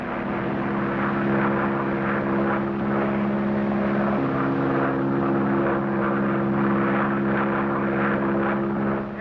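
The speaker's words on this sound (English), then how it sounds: "Plane, and if our tip is right, Crowley's in it" A propeller airplane flies overhead, its engine a steady, loud drone with a constant tone that holds for about nine seconds without any voices.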